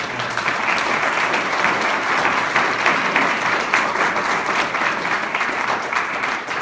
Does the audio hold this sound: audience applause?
yes